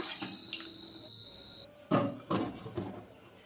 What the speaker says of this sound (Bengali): গরম জল দিয়ে দিলাম সেদ্ধ হওয়ার জন্য